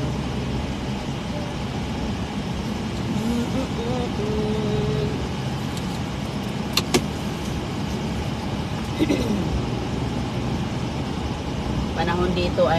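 Steady road traffic idling and rolling at a traffic light on a hot, dry day, a continuous low engine rumble with a few brief sharper sounds, heard under ongoing talk.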